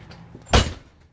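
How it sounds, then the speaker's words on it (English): The entry door of a 2021 Entegra Coach Qwest 24T Class C motorhome swings shut with a single close, solid thud and a short rattle, standing alone over quiet room tone. "and we'll close the door."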